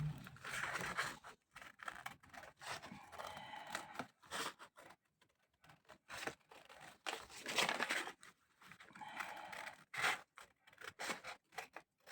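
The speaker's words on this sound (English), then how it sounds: "So what I can do is let's cut this excess off the bottom." Scissors cut excess paper from a junk journal tag, with a series of close, quiet snips and scraping paper rustles separated by brief pauses.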